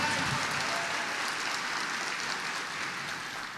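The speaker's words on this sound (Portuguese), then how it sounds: "uma salva de palmas para o Ademar Bright" A concert audience at a show in Indaiatuba applauds an introduced guest, dense steady clapping from a crowd at a moderate distance, fading slightly toward the end with no voices over it.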